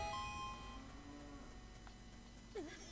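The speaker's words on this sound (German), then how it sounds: "Hat er gerade eine Kuh gemut?" A cow in the N64 game The Legend of Zelda: Ocarina of Time lets out a brief low moo, faint and short against quiet game ambience and chiming tones.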